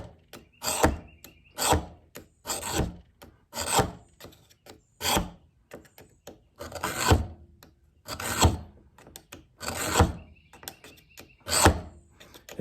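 A knife drawn back and forth through a cheap homemade sharpening tool, giving about a dozen rhythmic rasping strokes, close and steady, with no voices.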